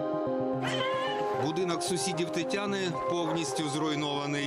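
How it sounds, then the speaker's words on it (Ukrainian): A cat meows repeatedly in drawn-out, wailing cries while a person talks over it nearby. "Ваша кішка? Ні, це кішка з зруйнованого будинку."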